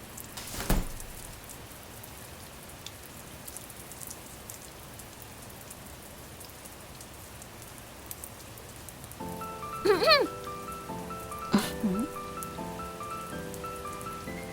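Steady light rain patters throughout, broken by a sharp click early on and brief melodic tones near the end.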